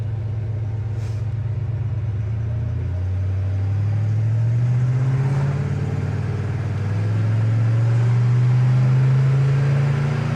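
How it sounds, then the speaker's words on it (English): A 1957 Chevy Bel Air with a Powerglide automatic transmission accelerates from the driver's seat, its engine note rising in pitch, dropping as the transmission shifts, then climbing again, steady and close. "That power glide shifts great too."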